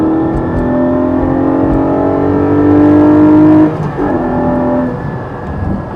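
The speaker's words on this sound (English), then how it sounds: "Nothing else sounds like a Porsche Flat 6." Porsche 718 Cayman GT4 flat-six engine revs loud and close, a sustained rising howl that holds steady, peaks, then drops and settles back to a strong idle-like drone.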